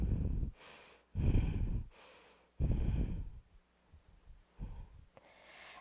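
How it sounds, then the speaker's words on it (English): Slow rhythmic breathing in and out through the nose during a yoga practice: several breaths, some sharp and snort-like, others softer and sighing, each separated by short pauses, close and fairly loud. "Breathing in and out of your nose."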